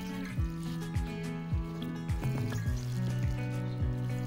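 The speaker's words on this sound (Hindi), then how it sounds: "पौधे के पास जो हमारी वाटरिंग कैन होती है, इससे हम यहाँ पर इस तरह से जो खाद का ये पानी है उसे हम दे देंगे" Liquid mustard cake fertilizer pours from a watering can onto a potted plant, with repeated gurgling, glugging splashes at a regular pace, close up over a soft tonal background.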